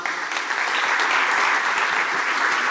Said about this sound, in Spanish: pido un fuerte aplauso para Seba.